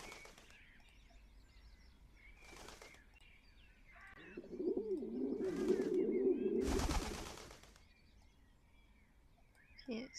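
A pigeon in a bird video game coos in a soft, low burble for a couple of seconds, between short bursts of game noise and flapping, all fairly quiet.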